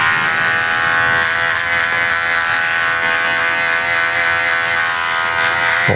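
Electric hair clipper with a 1.5 guard cutting a fade on a man's military-style haircut, a steady loud close-up buzz that holds unbroken throughout.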